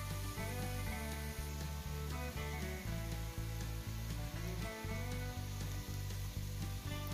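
Crushed garlic, green chilies and curry leaves sizzle steadily in hot oil for a prawn dish, a continuous close frying hiss that runs throughout, with no voices.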